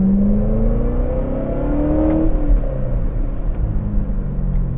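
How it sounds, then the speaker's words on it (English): A 2019 Chevrolet Corvette ZR1 pulling away in first gear, its engine rumbling loudly from inside the cabin as the revs climb and ease off, holding a steady drone throughout. "Let's go ahead and put this in first gear and take it for a spin."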